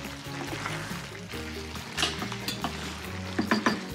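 Shrimp tossed into a pan for a Provençal sauté, with sizzling and stirring, a few utensil clatters near the end, and a soft musical backing underneath, no talking.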